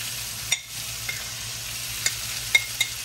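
Shrimp sizzle steadily in a hot pan for fried rice, with a continuous frying hiss and occasional scraping clicks of a utensil stirring them around the sides.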